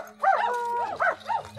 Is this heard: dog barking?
yes